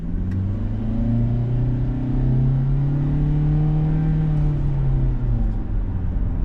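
A Kia compact sedan, a 2025 K4 or 2024 Forte with an economical CVT driveline, pulling away after a hard stop: a loud, close engine hum rising and falling smoothly in pitch as it accelerates, with road rumble underneath.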